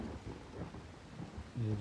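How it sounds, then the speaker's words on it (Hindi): Rain with a low rumble of thunder over an open village vegetable field in Punjab, a steady broadband wash with a deeper swell near the end, heard without talk. "बारिश आ गई है"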